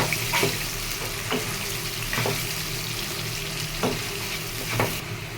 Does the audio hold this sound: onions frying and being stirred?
yes